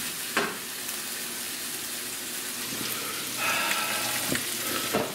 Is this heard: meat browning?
yes